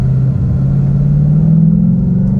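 A 2019 Ford Mustang GT engine revs after a downshift into second gear, a loud, steady low-pitched rumble that holds close and rises slightly, with no talking.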